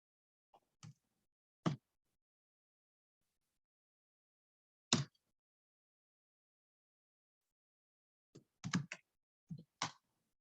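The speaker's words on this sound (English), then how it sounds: "And we're going to be typing in our addresses." Sparse keystrokes on a computer keyboard while entering router addresses during network configuration, coming as isolated taps and a few quick clustered bursts, close and clear against silence.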